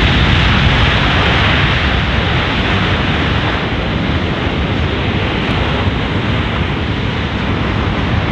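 C-17 Globemaster III cargo jet landing at the 2022 Miramar Airshow, a loud, steady, broad roar of jet engines filling the whole stretch without letup, heard from outdoors with no speech over it.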